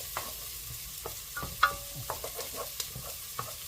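Onions being stirred in a hot pot for minestrone, with a steady low sizzle and scattered scraping clicks from the spoon at an irregular pace, close and fairly quiet.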